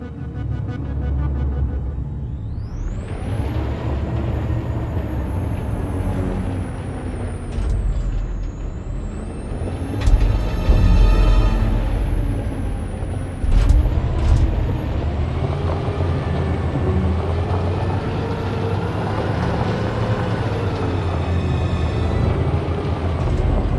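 A heavy truck engine rumbles steadily with loud hissing bursts of air brakes in the game Detroit: Become Human, swelling and fading over the roar; no one speaks.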